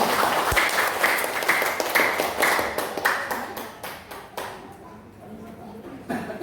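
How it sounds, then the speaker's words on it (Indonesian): Audience in an Indonesian school teacher dissemination session claps for a presenter, a dense round of applause that thins and fades toward the end, with a few scattered claps lingering. "tepuk tangan yang meriah untuk Pak Jody"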